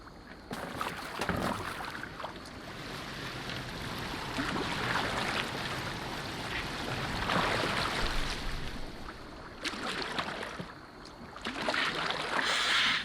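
A rowboat glides across water in Assassin's Creed Valhalla, with steady splashing and rushing water running throughout and a few louder surges of spray, no talking.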